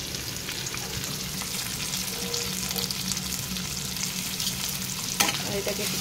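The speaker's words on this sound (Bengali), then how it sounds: "আর প্রথমে আমি কাঁকরোলগুলো একটু ভেজে নেব" Spiny gourd (kakrol) slices fry in a pan with a continuous close sizzle and occasional stirring scrapes, alone without talk.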